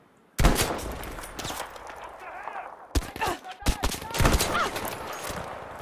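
Bursts of gunfire from a Battlefield V firefight on hardcore difficulty, loud and close: a sustained stretch of rapid shots, a brief lull, then several sharp volleys, with talk mixed in.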